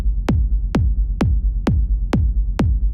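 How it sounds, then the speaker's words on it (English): A kick drum sample drenched in reverb thumps six times at an even, steady pace, each deep punchy hit trailing a short, fading tail. "I've chosen a kick drum sample that has a ton of reverb on it"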